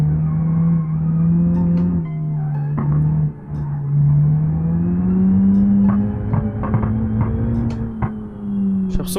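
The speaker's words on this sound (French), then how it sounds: "J'ai l'impression que la voiture elle broute." A Hyundai i20 N in the BeamNG Drive video game runs low on fuel, its engine droning unevenly and bucking while the pitch wavers up and down, with occasional faint clicks and scrapes and no speech.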